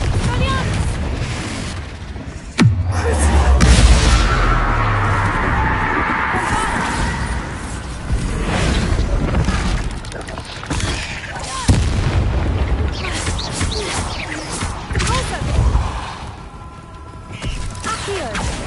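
Confringo fire spells explode one after another in the wizarding game Hogwarts Legacy, heavy booming blasts with deep rumbling tails over a loud, dense battle soundscape, while a voice talks over the action.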